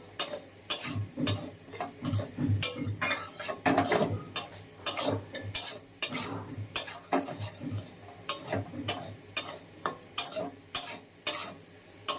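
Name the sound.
frying and stirring lentils (dal) in a pan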